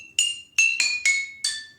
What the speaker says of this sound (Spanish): los frasquitos de vidrio.